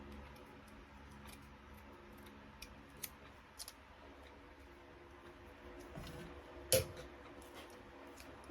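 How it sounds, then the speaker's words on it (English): Scissors snipping circles out of craft material, quiet and close, scattered soft cuts and clicks with a few sharper snips near the end, no talk. "We're just gonna cut circles out of this and then we'll get started."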